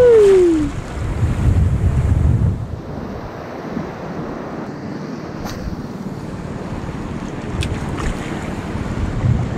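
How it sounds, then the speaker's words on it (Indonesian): Big ocean waves at sea heard from a small fishing boat, a continuous loud wash and roar with surging swells and heavy wind buffeting the microphone. "Besar ombaknya"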